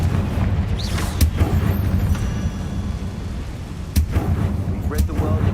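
Fire spell explosions from Hogwarts Legacy combat, a few sharp booming blasts over a dense, loud rumbling game soundscape with battle noise throughout.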